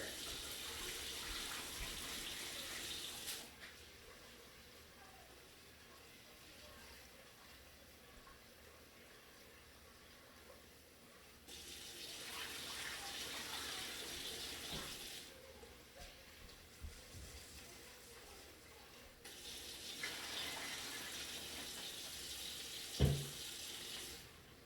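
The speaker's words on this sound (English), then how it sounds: "you're going to pour some water in here and gently slosh it around" Water gently sloshed and swirled over uncooked rice in a bowl while rinsing it for a rice cooker, three soft splashing bursts with quiet pauses between and a small knock near the end.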